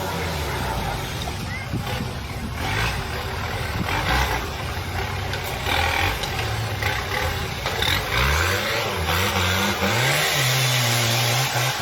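Off-road competition vehicles at an event: engines rumble and rev repeatedly, rising and falling in pitch, loud and fairly near, over a constant crowd and outdoor din.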